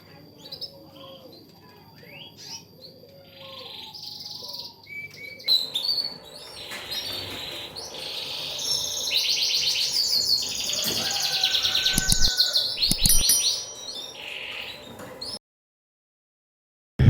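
Canaries chirp and twitter continuously, with bright high trills building up and overlapping, then the sound cuts abruptly to silence.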